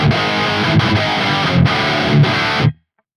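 Heavily distorted electric guitar through the Archetype Gojira X amp plugin with its doubler switched off chugs a dense, loud riff with regular accents, then stops abruptly into silence.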